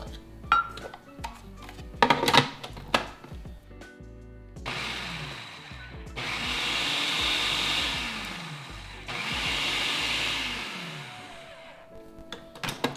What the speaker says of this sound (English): So I'm gonna add my 1 cup of parsley to my food processor, and I'm just gonna pulse it a few times until it's really finely chopped.